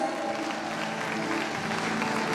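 An audience at a Georgian children's song festival applauding a guest called to the stage, a dense steady wash of clapping throughout.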